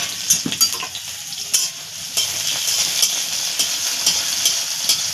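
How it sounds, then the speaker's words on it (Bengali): Beans and green chilies fry in oil in a kadai, a loud, continuous sizzle up close with a few stirring clatters and scrapes scattered through it. "বিনস কড়াই কাঁচা লঙ্কা দেখো এগুলোকে ভালো করে আগে ভেজে নেব"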